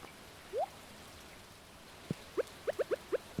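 Sparse droplet plinks from rain in the farming game Stardew Valley, several soft pitched drips falling in a loose, quickening sequence over a faint hiss of rainfall.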